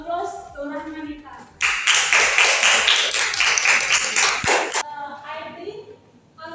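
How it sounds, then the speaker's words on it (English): Brisk clapping from a small classroom group for a student, close and bright, starting abruptly and lasting about three seconds, with a teacher speaking before and after. "Applause to Rahmanita."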